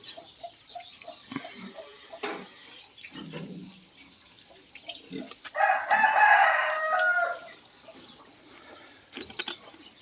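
A rooster on a small farm crows once in a loud, drawn-out call near the middle, with scattered faint farmyard sounds and brief noises before and after.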